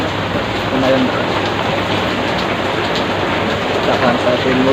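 Heavy morning rain pours down in Duren Sawit, East Jakarta, a dense, steady hiss of falling water that stays loud and unbroken throughout, with faint voices half-buried beneath it.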